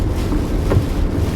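Strong wind from a severe thunderstorm buffets the microphone during a drive, a steady loud rushing roar with no voices.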